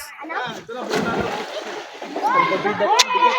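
River water on the way to Santa Ines splashes and sloshes close by, a continuous, churning wash under a person talking.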